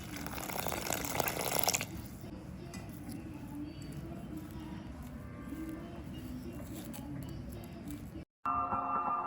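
Lukewarm water pours into chapati flour in a bowl, a brief splashing rush at the start that fades into a low, steady background hum.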